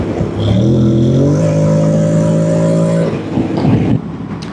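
A Honda NC750X motorcycle with DCT in Sport mode, pillion and full luggage accelerates hard at full throttle, a loud, close engine note rising steadily in pitch through a gear before easing off.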